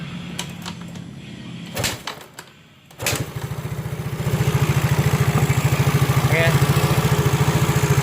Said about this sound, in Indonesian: Kita starter dulu ya teman-teman, apakah dia sudah bisa.